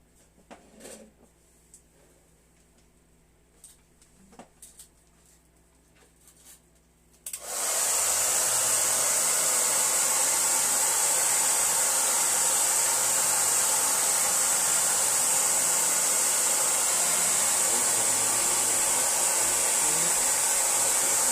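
A hair dryer switches on and blows steadily at close range to dry wet paint on an autumn waterfall painting, a loud continuous hiss that runs unbroken after a few soft clicks and handling sounds.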